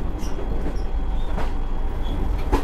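Passenger train, the Kakinada Port–Sainagar Shirdi Express, running along a curve near Manmad Junction, a steady rumble and rattle of wheels on track with occasional faint squeals, continuous and close.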